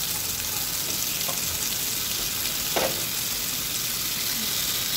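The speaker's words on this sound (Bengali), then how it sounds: "আলুটা আমি মরিচের গুঁড়া লবণ দিয়েছি, এরপর লাল লাল করে ভেজে নিব।" Potato pieces seasoned with chili powder and salt fry in hot oil, giving a steady, loud sizzle with a few brief crackles and no voices.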